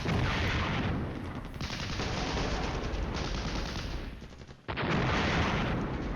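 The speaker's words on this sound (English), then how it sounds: "Hey, stop artillerying my tanks." Artillery shells pound tanks in a Cold War NATO strategy battle, a dense, continuous barrage of booming impacts and crackling gunfire that dips briefly near the end before surging back loud and close.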